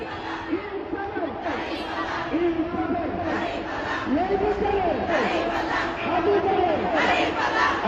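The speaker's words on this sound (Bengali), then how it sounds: "আমরা যেমনটি শুনেছি তারা কিন্তু গোলামি না আজাদি, আপোষ না সংগ্রাম, এইসব আধিপত্যবাদ বিরোধী স্লোগানও তাদের মুখ থেকে শুনছি।" Large election procession crowd chanting political slogans in unison on a Dhaka street, a dense roar of many voices with rising, rhythmic chant phrases repeating steadily throughout.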